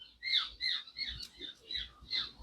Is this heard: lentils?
no